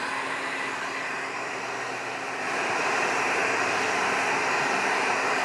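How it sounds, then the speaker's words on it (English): A hair dryer with a nozzle blows steadily at close range while a brush works through a large beard, a continuous airy roar that grows slightly louder partway through. "I try not to keep the hairdryer in the same place for too long."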